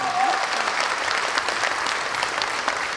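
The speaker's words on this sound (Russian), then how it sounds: "Ваши аплодисменты!" A hall audience breaks into applause, a full, steady roar of many clapping hands sustained evenly from start to finish, with a brief tone at the very beginning.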